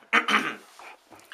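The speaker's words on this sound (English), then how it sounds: "I know that's my dog trying to get in the video." A dog whimpers and yips in short, high, whiny bursts close by, fading to softer whines, with no one talking over it.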